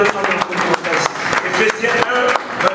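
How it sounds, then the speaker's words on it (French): Church congregation applauding and cheering during a sermon, dense rapid clapping with voices mixed in, steady and fairly loud throughout. "Acclamons très fort"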